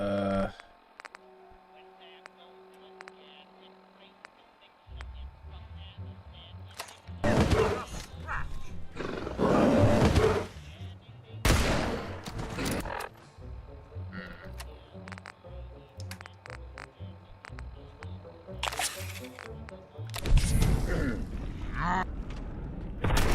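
Gunfire and the roars of an angered creature in a Fallout video game, with sharp loud shot bursts and growling cries scattered across the fight while someone talks over it.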